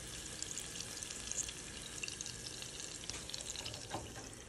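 A burger frying in a Red Copper frying pan gives a quiet, steady sizzle and crackle that continues without pause, with no voices over it.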